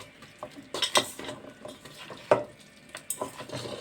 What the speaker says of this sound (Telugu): తిండి ఇలా కలుపుకోవాలండి